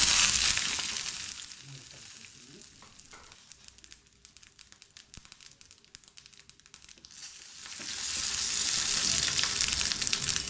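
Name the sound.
dry chillies, mustard seeds, urad dal, cashews frying in hot oil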